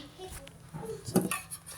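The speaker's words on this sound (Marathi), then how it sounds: "आता भांडी धुऊया." Dishes, pots and cutlery clink and clatter in short irregular bursts as they are washed, close by, with faint background noise.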